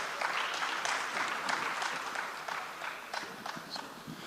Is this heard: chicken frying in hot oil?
no